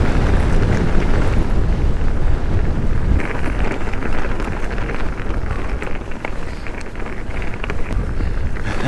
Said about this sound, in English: Whoa, into the wind.